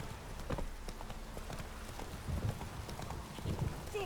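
Horse Roach galloping in The Witcher 3, a quick steady rhythm of hoofbeats close up over a low rumbling game background, faint.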